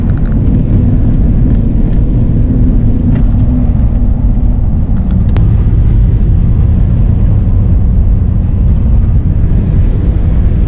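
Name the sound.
1990 Ford Bronco Eddie Bauer driving through snow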